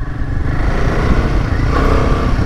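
Royal Enfield Himalayan motorcycle ridden off-road, a loud close engine drone with steady throbbing exhaust and rough clatter, no voices over it.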